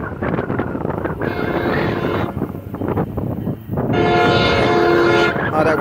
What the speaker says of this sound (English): Seventh train of the day today.